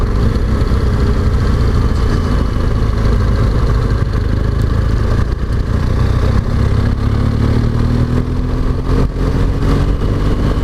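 Motorcycles out on a morning rideout give a loud, continuous engine rumble from close by, with a low idle clatter and a rising rev toward the end.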